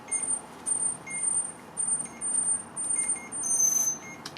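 C-Fly Obtain drone, a Mavic-style quadcopter, giving short high-pitched electronic beeps as it finishes initializing, a faint intermittent series over low background noise, ending with a slightly longer tone.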